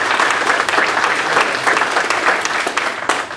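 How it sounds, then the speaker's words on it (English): Round of applause from a community audience at a candidates' event for a state representative seat, a loud, dense clapping crowd that stays steady and close throughout with no talk. "How about we give them a round of applause?"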